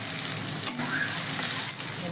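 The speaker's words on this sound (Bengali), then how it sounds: "কাঁচা লঙ্কাগুলো একটু ভেজে নেব।" Green chilies frying in a pan for a fish curry with mustard and tomato, producing a continuous close sizzle with a single brief knock partway through and no talk.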